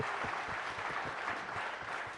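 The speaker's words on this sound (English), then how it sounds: "Let's have a loud round of applause for Ustad Zakir Hussain." Live summit audience applauding a tabla maestro on stage, a continuous even roar of many hands clapping at a distance, with no talk over it.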